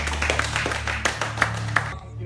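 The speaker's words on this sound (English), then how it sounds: "Let's give him another round of applause." A small audience gives a round of applause, with a few distinct, fairly close hand claps at an uneven rhythm over a low hum and background talk, ending abruptly.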